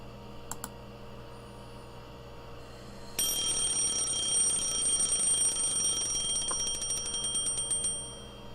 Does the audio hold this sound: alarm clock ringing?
yes